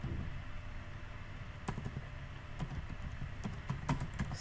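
Typing on a computer keyboard while entering book details into a Word document, a steady patter of soft close key clicks with a few louder taps, alone over faint background hiss.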